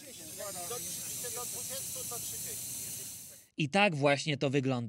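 Steady, loud hissing as air is let out of Toyota Hilux GR Sport tyres in the Sahara desert, continuing for several seconds with someone speaking over it, then stopping as his voice carries on alone.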